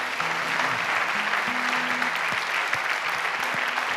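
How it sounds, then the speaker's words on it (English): A church congregation at a Christmas Eve service gives a big round of applause, loud continuous clapping with a low tonal hum sustained underneath. "Meeting house, can we give them a big round of applause and just welcome them in?"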